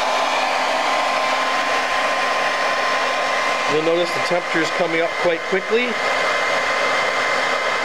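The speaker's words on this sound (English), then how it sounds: "Simply going to use a hair dryer to heat it up" A hair dryer blows with a steady, loud whirring hiss throughout, while a person briefly speaks over it midway.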